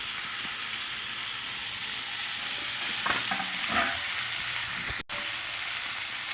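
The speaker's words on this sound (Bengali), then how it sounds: "গরম হয়ে গেল এই তেলে সবগুলি দিয়ে দেবো একসাথে" Crab pieces fry and get stirred in hot oil in a wok for a spicy crab dish, giving a steady close sizzle with brief louder scraping bursts of stirring partway through.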